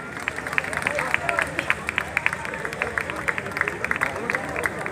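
An audience at an anniversary award presentation claps steadily in a dense, continuous patter, moderately loud with a crowd murmur underneath, while a voice speaks over it.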